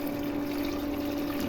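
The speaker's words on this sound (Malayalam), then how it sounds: "വെള്ളം ഒഴിച്ചു കൊടുക്കുക." Water pours steadily into a pot of rice, a continuous rushing flow with a faint hum beneath it, close and unbroken from start to finish.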